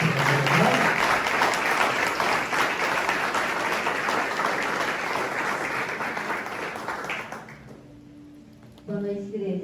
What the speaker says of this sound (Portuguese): Vamos aplaudir o irmão do Senhor.